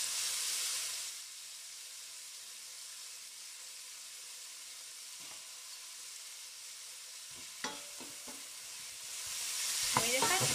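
Clams with artichokes and broad beans cook in a pan, giving a faint, even sizzle and hiss that fades after the first second, with a few sharp utensil clicks and taps near the end.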